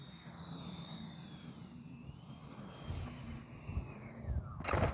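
An FGFRC 80mm A-6 electric ducted-fan RC jet, a Franken plane, flies past with a steady whooshing turbine whine, rising and swelling loudest at the end as it sweeps close overhead.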